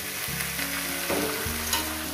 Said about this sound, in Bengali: আরো 6 মিনিট আমি হলুদ দিয়ে ভেজে নেব